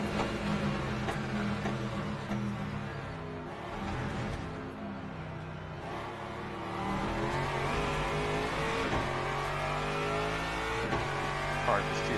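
An Aston Martin race car engine in a racing video game drones and revs steadily for the whole stretch, with tire noise mixed in, while someone talks over it.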